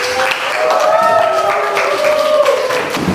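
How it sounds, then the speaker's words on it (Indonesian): Classroom applause from students, a steady round of clapping over a few seconds with an adult voice talking and calling out above it. "Oke, tepuk tangan."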